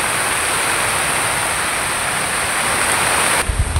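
Heavy rain pours on a farm as a dense, continuous hiss at even loudness, ending with a few low knocks and no voices.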